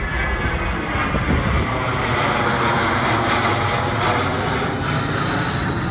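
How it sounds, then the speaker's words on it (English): Firefighting air tanker plane passing overhead, a loud, continuous engine roar filling the air steadily for several seconds with no talk. "Looks like another tanker on the way to the cellar fire."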